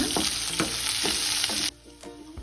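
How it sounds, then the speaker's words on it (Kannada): Coriander seeds and tomato frying in hot oil give a loud, steady sizzle with a few stirring scrapes, then the hiss drops sharply to a quieter simmer near the end. "ಇವಾಗ ಇದನ್ನೆಲ್ಲ ಚೆನ್ನಾಗಿ ಫ್ರೈ ಮಾಡ್ಕೊಳ್ಳೋಣ"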